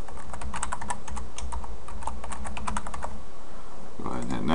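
Rapid keystrokes on a computer keyboard as a password is entered, a steady run of crisp clicks for about four seconds, ending in a brief louder rustle.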